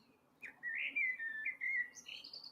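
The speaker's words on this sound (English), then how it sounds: "there are blackbirds singing with you from my garden." Blackbirds sing in a garden with clear, fluting whistled phrases that rise and fall over a faint background hum, the song close and continuous for a couple of seconds.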